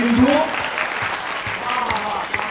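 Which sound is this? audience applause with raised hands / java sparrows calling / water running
audience applause with raised hands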